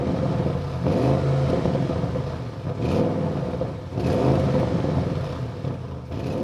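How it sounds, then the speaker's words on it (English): An Audi RS6 Avant engine in normal mode rumbles close by, rising in two revving pulls over a steady idle, with no talking. "I will start up the car, then accelerate a little bit with the normal mode"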